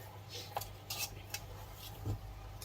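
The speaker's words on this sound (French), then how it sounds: "Là, on va encore mélanger." A utensil stirs chicken in a cream sauce in a pan, giving several light scraping clinks against the metal at irregular intervals over a quiet background.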